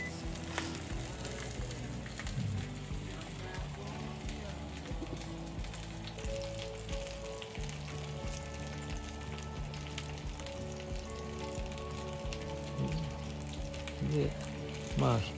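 Steady crackling sizzle of food frying in a pan on an IH stove over medium heat, continuous and close, with faint background tones and occasional clatter.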